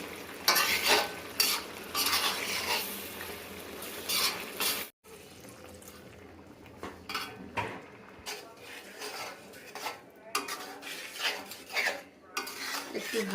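A spoon or ladle scrapes and clinks inside a pot of small fish curry with tomato, with a soft simmering sizzle beneath, in bursts of stirring separated by short pauses, close and fairly quiet.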